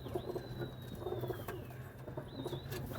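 Pigeons coo softly in low repeated murmurs, several overlapping calls at a moderate distance, with a faint whistle-like tone and light background ambience.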